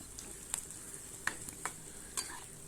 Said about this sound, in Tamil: இப்போது இந்த தக்காளியை நம்ம நல்லா வதக்கிக்கிறோம்.